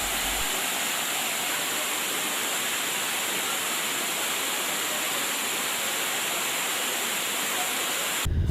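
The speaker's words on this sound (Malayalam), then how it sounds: "കാതങ്ങൾക്കിപ്പുറത്തു നിന്നേ കേൾക്കാം വെള്ളിച്ചിലങ്ക കിലുക്കി സഞ്ചാരികളെ മാടി വിളിക്കുന്ന കക്കറ പത്തായക്കുന്ന് വെള്ളച്ചാട്ടത്തിന്റെ ശീൽക്കാരധ്വനികൾ" The Kakkara Pathayakkunnu waterfall roars in a continuous, dense rush of falling water, loud and unbroken for the full length with no voices over it.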